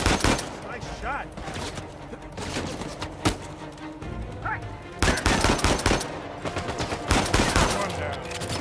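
Rapid gunfire in the video game Uncharted 4, with bursts of automatic shots and heavy single reports clustering in dense volleys, loud and close, over a game soundtrack.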